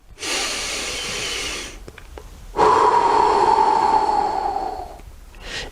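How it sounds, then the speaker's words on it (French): Deep slow breaths during a breathing exercise: a long airy inhale, a brief pause, then a longer hissing exhale with a faint voiced tone, close and clear, ending with the start of another breath. "Vous inspirez et vous sentez le ventre gonfler. Ensuite, vous sortez l'air simplement."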